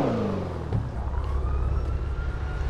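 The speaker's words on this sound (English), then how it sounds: "This car is dumb loud. This car is so loud, bro." A custom widebody C8 Corvette in GTA 5 with a loud engine, a steady roaring drone that holds throughout with a rising whine, close and dominant with no talk.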